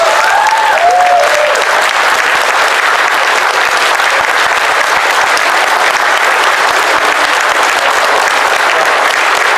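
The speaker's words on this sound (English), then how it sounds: "put your hands together and give Bob a massive round of applause" A large panel audience claps for Bob Budiansky in a long, steady wall of applause that holds at an even, full level, with a brief whistle or cheer near the start.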